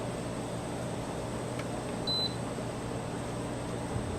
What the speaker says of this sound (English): Power it on. It beeps.